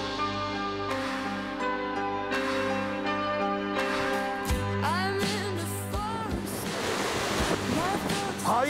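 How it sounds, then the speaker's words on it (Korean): Ocean waves breaking on the rocks at Ganjeolgot on the Ulju coast, a loud continuous rush of surf with wind buffeting the microphone, while steady tonal music plays underneath. "바위에 부서지는 저 파도 소리 한번 들어보세요."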